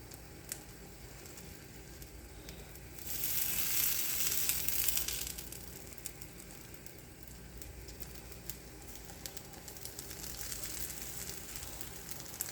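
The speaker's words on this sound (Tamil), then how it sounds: "இப்போ இதில் சாப் பண்ணி வச்சுருக்க டொமேட்டோஸ் கொஞ்சம் ஆட் பண்ண போகிறேன்" Chopped tomatoes hit a hot pan for a tomato omelette, bursting into a loud, hissing sizzle for a couple of seconds before settling back to a quieter, steady frying crackle.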